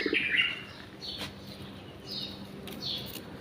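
Birds feeding in a mulberry tree give short high chirps and calls, a few scattered bursts spaced about a second apart over quiet outdoor background.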